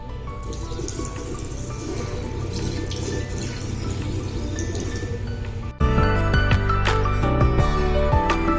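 Tap water runs steadily into a sink while teeth are brushed, a continuous splashing flow that grows louder and fuller partway through, with no talk.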